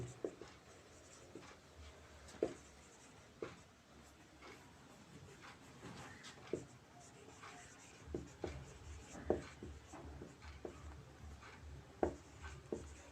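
Handwriting during a physics lesson, pen or chalk strokes scratching in short irregular bursts with soft taps between them, close and quiet, with no speech over it.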